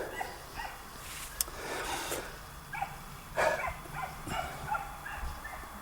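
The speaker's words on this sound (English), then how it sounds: "loads of dogs barking" Several dogs bark at a distance outdoors on a hot day, giving scattered short yelps and barks of varying loudness over a faint background, with no talking.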